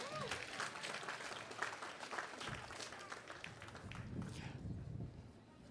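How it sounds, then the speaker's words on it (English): Applause from an audience at a cruise pier celebration rises and holds as a dense wash of clapping that fades toward the end. "I think that deserves a round of applause."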